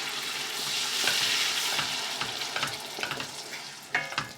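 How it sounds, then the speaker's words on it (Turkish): Homemade tomato sauce goes into a hot pan of fried paste, raising a loud sizzle and frying hiss with scattered pops and stirring scrapes, close and continuous with no talk. "Şimdi kendi yapmış olduğumuz domates sosundan koyuyoruz."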